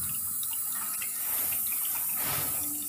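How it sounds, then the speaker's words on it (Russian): Water hisses and trickles steadily as an air valve vents water from a water underfloor heating system, a close, continuous rushing sound. "Срабатывает воздушный клапан, спускает воду из системы"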